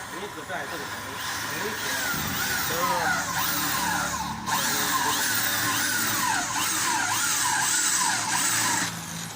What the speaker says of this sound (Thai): อ๋อเจาะไป